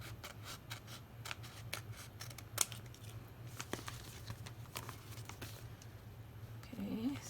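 Scissors snip through a paper template in a series of faint, quick cutting and rustling sounds over a low steady hum, with a brief soft voice near the end.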